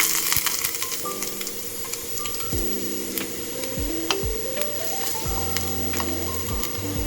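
Steady, loud sizzling of ginger frying in hot coconut oil, with occasional stirring scrapes; no voices.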